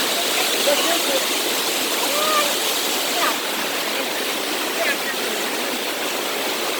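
A waterfall and stream roar steadily and loudly outdoors with constant rushing water, while voices talk faintly under the noise.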